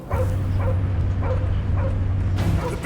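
Cosmo the dog in the Guardians of the Galaxy video game gives about five quick, evenly spaced barks and yips over a constant low droning hum.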